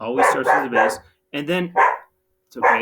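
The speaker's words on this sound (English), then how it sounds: "That's a dog of mine that is in our cabin." A dog inside a cabin barks a few times in the background while a person talks over it nearby.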